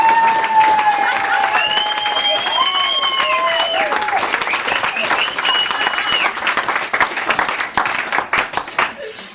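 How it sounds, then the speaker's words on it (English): Wedding guests clapping and cheering after a father of the bride speech, loud sustained applause from a close crowd with voices and whoops rising over it before the clapping tapers into scattered claps. "I think they probably deserve a clap now"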